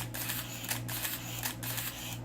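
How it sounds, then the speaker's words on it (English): Konica FS1 film camera firing its shutter, a few sharp mechanical clicks and slaps recurring at close range over a steady low hum, with no talking. "I love shutter slap."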